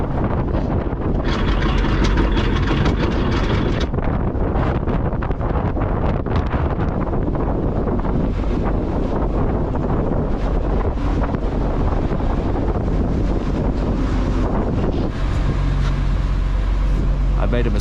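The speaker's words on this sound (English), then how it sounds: "The wind is actually pushing it out." Strong wind roars and buffets the microphone aboard a boat cruising in high winds, a continuous, loud, close rushing noise with gusty surges and no break.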